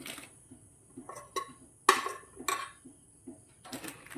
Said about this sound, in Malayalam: ഇത് മിക്സ് ചെയ്യാവേ